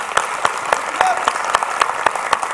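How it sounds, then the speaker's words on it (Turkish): A studio audience at a Turkish television talk show claps in a steady rhythmic beat, loud and close, with a voice briefly heard over it. "Her şeyden önce size bir alkış istiyorum."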